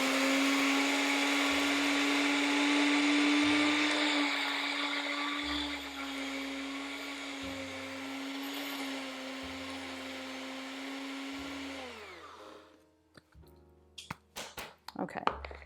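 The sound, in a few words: blender lightly blending oats into flour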